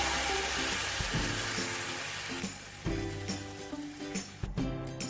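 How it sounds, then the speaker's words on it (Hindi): Milk poured into a pan of lightly fried vermicelli for a sweet seviyan dessert, a soft steady sizzle with a few clinks and stirring knocks near the pan. "अब मैं इसके अंदर मिल्क ऐड करने लगी हूँ।"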